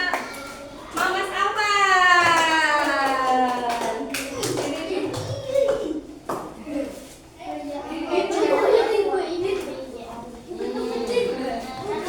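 A classroom of children clap for a group of classmates after a lesson on producers, consumers and decomposers, short bursts of hand claps mixed with a teacher's voice and children's chatter.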